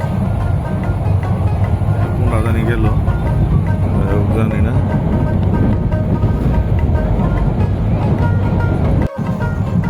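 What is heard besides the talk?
another train passing by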